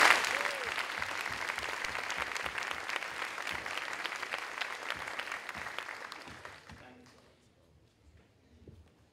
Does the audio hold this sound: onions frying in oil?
no